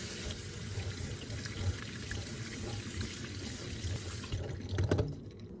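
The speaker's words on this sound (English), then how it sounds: "I'm going to wash this with some cold water first" Cold tap water runs steadily over vegetables in a kitchen sink, a soft continuous splash with small bumps of handling, faint and close, no talk.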